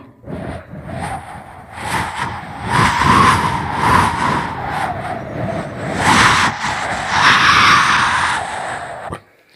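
A performer on a comedy stage vocally imitates cars driving and skidding on snowy roads in bitter cold, with a run of loud, continuous whooshing, revving and screeching bursts that fade at the end.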